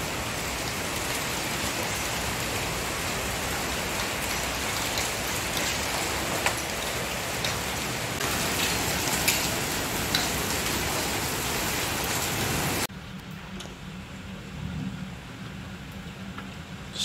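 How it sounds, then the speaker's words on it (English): Heavy summer rain in Kraków pours in a dense, steady hiss, pelting surfaces with scattered harder hits of hailstones, then suddenly drops to a softer, muffled patter. "There's the hail they were talking about."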